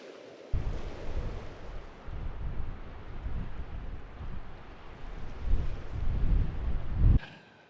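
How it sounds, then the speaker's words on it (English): Strong wind buffets the microphone in a heavy, rumbling roar that surges and eases for several seconds before cutting off abruptly. "it's windy as hell"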